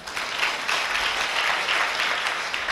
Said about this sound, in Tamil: கைத்தட்டுங்க பார்க்கலாம்.